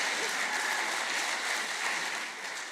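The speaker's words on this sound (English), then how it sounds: "please give her another round of applause" Conference audience at an anniversary event clapping continuously, a dense, even wash of applause from a large crowd throughout, with no voices standing out.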